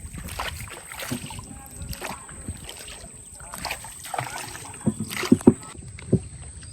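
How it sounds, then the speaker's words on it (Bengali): A small wooden dinghy moves along a river in the Sundarbans, with soft water lapping and paddle splashes under steady wind noise and a few sharper knocks near the end. "ছোট্ট ডিঙা নৌকা নিয়ে বেরিয়ে পড়েছি।"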